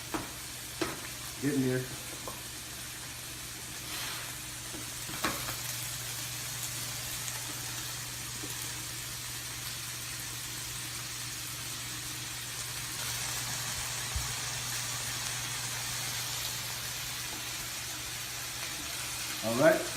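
French toast frying in a pan during a home brunch cooking session, a steady low sizzle running throughout with a few brief clatters, while a person speaks briefly near the end.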